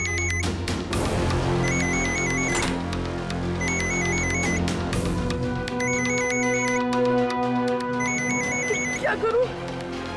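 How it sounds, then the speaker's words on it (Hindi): A phone ringtone chimes in repeated bursts over loud background music and noise, persisting throughout. "उसने फोन की आवाज भी सुन ली होगी।"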